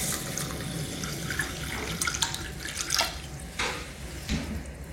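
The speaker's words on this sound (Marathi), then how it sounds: "आता यामध्ये पुरेसे पाणी टाकायचं आणि तांदूळ स्वच्छ धुवून घ्यायचं." Half a cup of rice is washed by hand in water in a kitchen, a steady wet swishing and running-water wash with small splashes and drips, close and continuous.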